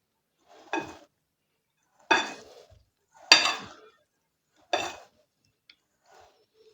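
Spoon stirring Brazilian coconut cake batter in a bowl, four separate scraping, clinking strokes spaced about a second apart, close and fairly quiet with no talk.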